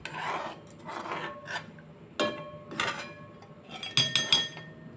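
Vegetable manchurian gravy being stirred in a pot with water and sauces, a spoon scraping and clinking against the metal in several short bursts with a few sharper clinks near the end, fairly close and without talk.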